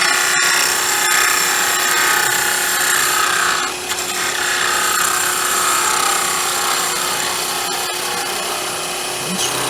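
A wood lathe takes a final clean-up cut along a turned Christmas tree ornament, giving a steady, close scraping and whirring hiss that runs the whole time with only a brief dip, no voices.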